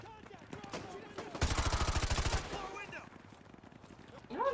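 A loud rapid burst of automatic gunfire in the video game Call of Duty Modern Warfare Remastered, lasting about a second amid game sounds, with people talking around it.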